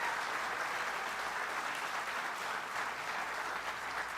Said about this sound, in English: let's give those working here a round of applause